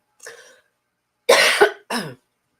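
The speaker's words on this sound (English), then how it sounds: "it's a very dry cough" Three dry, rasping coughs: a short one first, then a pause and two louder, harsher bursts close together, near and alone.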